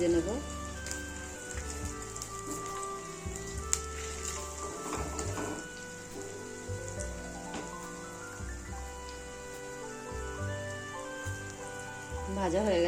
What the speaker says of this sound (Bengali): এভাবে উল্টে পাল্টে সবগুলো ভেজে নেব।